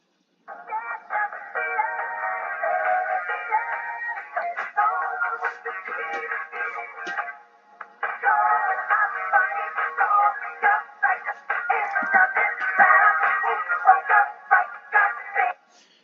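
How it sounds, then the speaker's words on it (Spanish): Band-pass filtered drum recording with cymbals removed, a thin, boxy midrange and no cymbal shimmer, playing steadily with a short pause midway. "se puede notar que se eliminan los sonidos de los platos de la batería"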